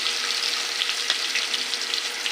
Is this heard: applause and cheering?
no